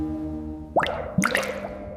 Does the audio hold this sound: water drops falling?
yes